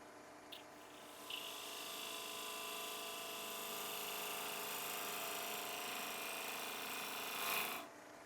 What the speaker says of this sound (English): now I'm going to go in here with my square end scraper